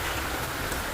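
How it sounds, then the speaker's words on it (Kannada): Heavy rain pouring down, a dense, loud and continuous hiss with no pauses. "ಜೋರು ಮಳೆ ಬಂತು"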